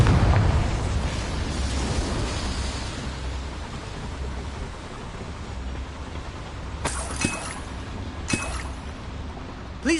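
A Confringo fire spell exploding in Hogwarts Legacy: a burst that rumbles and fades, followed by a few sharp cracking pops close by.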